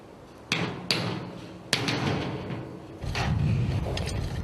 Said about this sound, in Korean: 볼트가 잘 들어가지 않을 때는 망치를 사용하는 수밖에